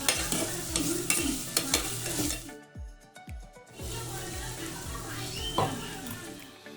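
Onions and curry leaves frying in a pan for a vegetable biryani, stirred with repeated scraping knocks of a spoon over a close, crackling sizzle that dips briefly midway then returns.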